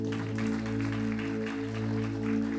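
A concert crowd applauds the bass player at a tribute show. Broad clapping is heard over sustained musical tones from the stage.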